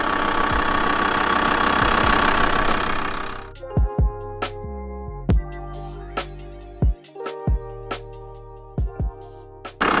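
A camper van engine idles with a loud steady roar that drops to a lower hum, punctuated by repeated knocking clicks and thumps.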